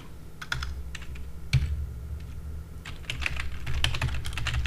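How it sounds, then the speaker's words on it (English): Rapid, uneven keystrokes on a computer keyboard, typing a subject line into an email, with bursts and short pauses throughout, close and moderately loud over a low background hum. "here you can optionally type a subject"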